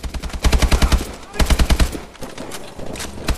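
Rapid bursts of AK-12 automatic fire in Call of Duty: Advanced Warfare, loud and close, in several long strings separated by brief pauses.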